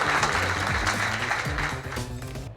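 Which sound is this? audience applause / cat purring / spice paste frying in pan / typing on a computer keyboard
audience applause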